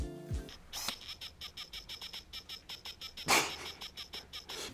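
Rapid, evenly spaced clicking and ticking in short bursts from a Tokina 11-16 lens autofocus motor hunting, with a couple of louder clicks.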